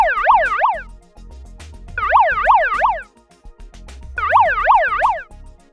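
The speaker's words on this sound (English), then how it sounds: "The evacuation alarm sounds like this." Evacuation alarm sounding in three loud, separate bursts, each a rapid rising-and-falling electronic warble, with short silent gaps between them and no voices.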